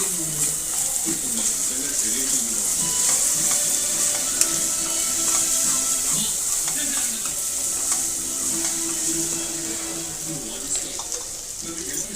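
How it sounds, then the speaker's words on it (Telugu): Ginger and garlic paste sizzling in a hot pan while being stirred, a steady bright frying hiss with occasional scrapes of the spoon, a voice talking faintly underneath. "తగినంత అల్లం పేస్ట్, తగినంత ఎల్లుల్లిపాయ పేస్ట్. ఇప్పుడైతే దీన్ని కలుపుకుందాం ఫ్రెండ్స్."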